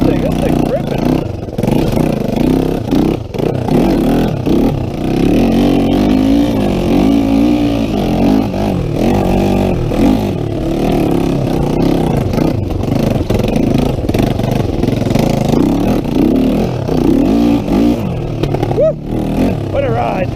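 A Honda 350X three-wheeler ATV, fitted with a Honda 400EX carburetor, roars and revs hard while being ridden, its loud engine rising and falling through throttle changes with clattery mechanical texture, close and continuous.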